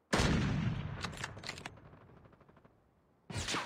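SP-R 208 sniper rifle shots in Call of Duty Mobile: a loud close blast with a long rolling decay and clicking tail, then a second sharp shot at the end.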